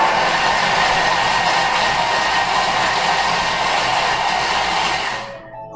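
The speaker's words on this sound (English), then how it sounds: "now we're going to mix them up. I'm going to do it for 5 seconds on speed 6." A kitchen mixer blending bananas for banana bread at speed 6 gives a loud, steady whirring roar for about five seconds, then cuts off abruptly.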